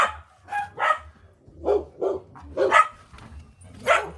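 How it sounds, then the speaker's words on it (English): Dogs bark repeatedly in a mountain neighborhood, a string of sharp, fairly close barks and yips in an uneven rhythm with brief pauses between them. "ravaging dogs."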